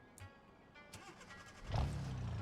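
A four-cylinder car engine is started on the key: a few faint clicks and cranking, then the engine catches into a louder rumble near the end of the short stretch.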